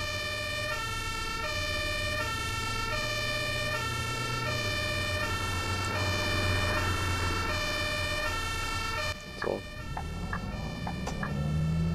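In the OMSI 2 bus simulator, a fire engine siren sounds close behind a city bus in Düsseldorf, cycling through its two-tone wail over the bus engine's low drone, then cutting off near the end amid a few clunks.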